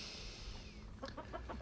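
A steady hiss gives way to a few rhythmic chicken clucks near the end, moderately close and without any voices.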